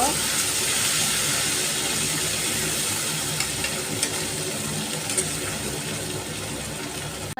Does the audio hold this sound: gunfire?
no